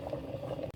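Water boiling in a pot on a portable stove at an outdoor park picnic, a close, continuous bubbling rumble with a light gurgle, ending in a brief small knock.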